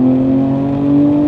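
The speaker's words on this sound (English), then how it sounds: "So let's floor it, fourth gear." A BMW M2 G87 engine revs hard and close in fourth gear, its steady loud drone holding a strong harmonic tone as it pulls under heavy acceleration.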